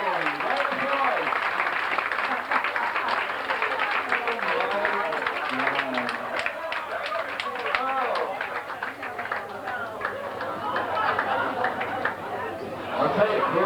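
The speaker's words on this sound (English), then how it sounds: "Round of applause." A retirement party audience breaks into sustained applause and chatter, a dense wash of clapping hands and crowd voices that continues at a steady level throughout.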